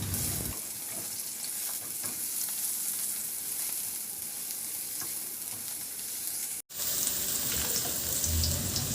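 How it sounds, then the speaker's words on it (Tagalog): Garlic and ginger sautéing in hot oil in a pan, a steady bright sizzle and crackle that runs continuously, broken by one abrupt momentary drop near the end before the frying resumes. "Magpainit na rin ako ng mantika sa kawali at igisa ako na yung bawang at luya."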